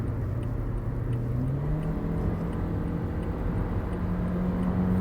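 A 2018 Toyota Yaris TRD with a CVT in sport mode drones steadily at full throttle, its engine note rising slowly in pitch, heard from inside the cabin with no speech.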